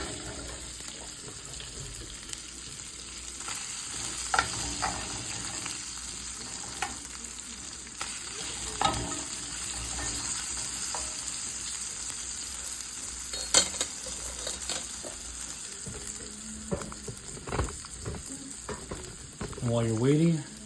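A steak fries in a pan with a steady low sizzle. Bursts of running tap water and clattering utensil sounds come and go over it, and there is no speech.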